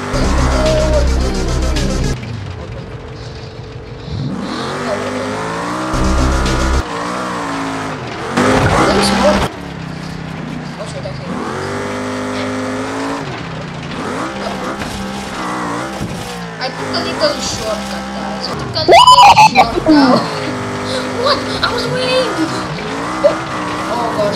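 A car with its accelerator stuck drives offroad in the BeamNG video game, engine roaring and revving continuously with tire squeals and skids, while people talk over it.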